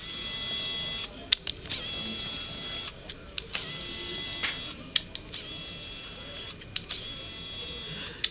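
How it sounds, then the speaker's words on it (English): Sony ZV-1 compact camera's lens zoom motor whirring in repeated short bursts, picked up loudly by the camera's own microphone over a steady hiss, with clicks as the zoom starts and stops. "zooming in and out with this camera is pretty loud and the microphone picks it up pretty loud"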